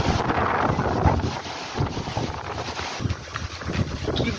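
Strong gusty wind batters the microphone outdoors during a rainy spell, a loud rushing roar that surges and dips in uneven gusts throughout.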